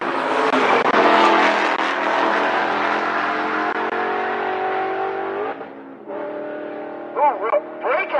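Drag racing cars including a Fox Mustang at a race week finals, loud sustained engine roar with shifting pitch, then sharp revving bursts near the end, close and dominant over crowd noise.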